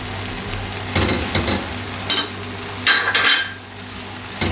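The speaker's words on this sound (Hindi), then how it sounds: "अब ये मसाले मिक्स करके भी थोड़ी देर मैंने भुना है" Spices frying with goat brain in a pan for bheja masala fry, a close, steady sizzle with scraping and stirring strokes of a spoon against the metal and occasional louder clinks, with no voices.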